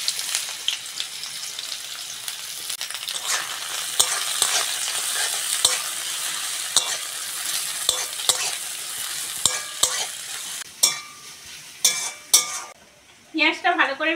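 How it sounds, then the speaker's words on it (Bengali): Onion frying in mustard oil in a wok crackles loudly and steadily, broken by frequent metallic scrapes and clinks of a spatula stirring, with clattering utensils near the end. "তেলের মধ্যে পেঁয়াজটা দিয়ে দেবো।"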